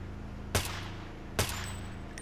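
Two sharp gunshots about a second apart in the 1998 PC shooter Deus Ex, each a loud punchy crack with a short decaying tail over a low ambient game hum.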